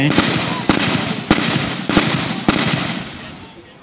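Artillery blasts fired during a military demonstration at an army infantry regiment, five loud, sharp booms spaced about half a second apart, each followed by a rumbling decay.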